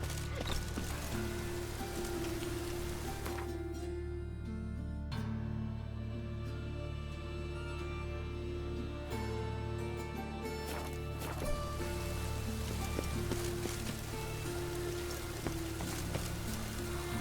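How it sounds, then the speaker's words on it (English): Rain falls in the video game The Witcher 3, a steady, dense hiss of drops on surfaces continuing evenly throughout, with no talk. "Rain, I like rain."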